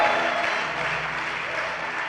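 A church congregation breaks into sustained, dense applause and acclaim during a sermon, a steady wash of clapping and voices that holds at an even level throughout without pause.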